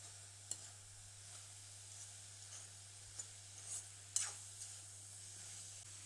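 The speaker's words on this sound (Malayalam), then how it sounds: "നന്നായിട്ട് ഇളക്കി കൊടുക്കാം" Pineapple stir fry with onion and spice paste cooking on high flame, a quiet even sizzle broken by a few light scrapes and taps as it is stirred, over a low hum.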